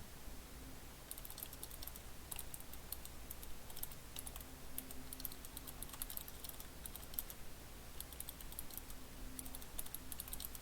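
Rapid clicking keystrokes on a computer keyboard come in quick irregular bursts over a steady faint room hum, close and quiet with no voices.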